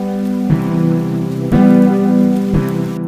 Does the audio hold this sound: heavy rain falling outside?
yes